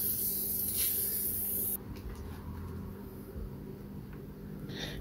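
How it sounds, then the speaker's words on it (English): An aerosol can of adhesive sprays a light coat onto a 1968 Charger heater box seal in one loud, steady hiss that stops abruptly partway through, followed by quiet handling sounds. "All we're going to do is just spray on a light coat."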